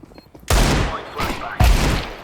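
Gunfire in Counter-Strike sounds as two loud, close bursts, each trailing off into a noisy decay.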